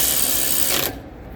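A ratchet tightens the brake caliper bolts during a brake pad and rotor job on a car with an electric parking brake, giving a close, dense run of rapid clicking for about a second before it stops and leaves quiet.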